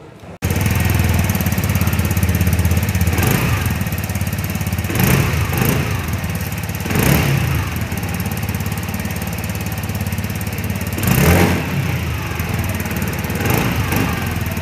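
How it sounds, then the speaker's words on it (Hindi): A TVS Jupiter 125 scooter engine (125cc, BS6, 2022) runs steadily at idle, loud and close, with a few brief blips of throttle. "तो गाइस अब मैं आपको सुनाने वाला हूँ इस स्कूटर की आवाज़"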